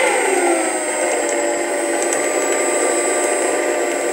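Electric wing motor on a Sky Mule model aircraft with a failed bearing, idling as a loud, steady high-pitched whine with a rough grinding edge, close and continuous.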